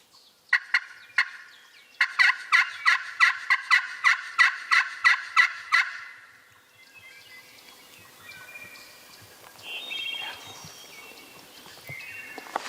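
Several loud gobbles from a wild turkey in Ohio, the last a long rapid rattling burst, followed by faint birdsong and rustling in the background.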